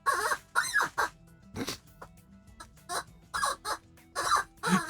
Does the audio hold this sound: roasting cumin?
no